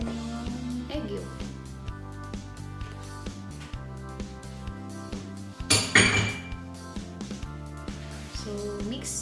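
A utensil clinks and scrapes against a bowl while cassava cake batter with egg yolk is mixed, with light repeated taps, one sharper clatter, and steady background music.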